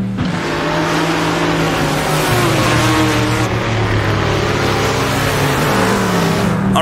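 A Chevrolet Stingray Corvette from the 1960s GTC class races through a desert track in Assetto Corsa, its engine roaring loudly and steadily under acceleration, with other cars' engines audible nearby as it passes them.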